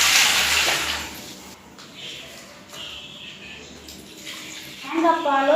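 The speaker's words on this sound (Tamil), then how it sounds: "தேங்காய் பாலும் தண்ணியும் மிக்ஸ் பண்ணி ஊற்றுங்க." Coconut milk mixed with water is poured into a cooking pot for a rice dish, a splashing liquid pour that fades mid-way and swells again toward the end, with faint background voices.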